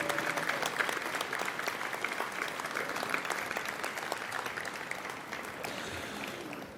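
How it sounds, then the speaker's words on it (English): An audience at a National Softball Hall of Fame induction ceremony claps steadily, a dense, sustained round of applause from a sizable crowd that holds level and eases slightly near the end. "a round of applause for the members of our National Softball Hall of Fame."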